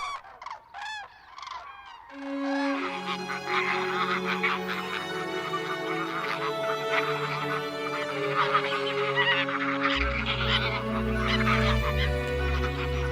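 A loud chorus of migrating cranes calling in the Spanish dehesa, many overlapping trumpeting honks filling the air, with a deep low rumble joining partway through.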